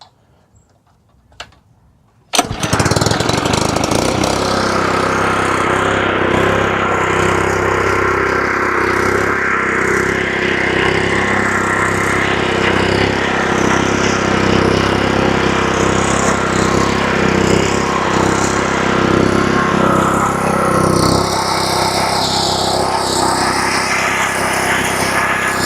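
A lawn mower engine starts after a few quiet seconds with a small click, then runs at a loud, steady drone close by, with a faint ticking rhythm, until the end.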